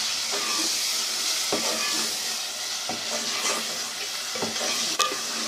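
Masala for mash dal fries and is stirred in a pan with water just added, giving a continuous close hiss and sizzle broken by periodic scraping strokes of a spoon, with no talking.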